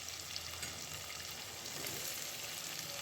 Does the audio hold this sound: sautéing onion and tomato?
yes